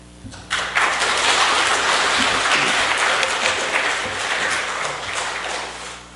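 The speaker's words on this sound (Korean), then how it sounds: "귀한 목사님 나오실 때 환영의 박수를 한번 맞아주시고" A church congregation applauds in welcome as the pastor comes forward, the clapping starting abruptly and holding as a thick, even roar of many hands before easing slightly near the end.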